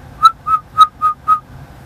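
A person inside a car whistles five short, clear tones in an even rhythm, close and fairly loud, with no talk over them.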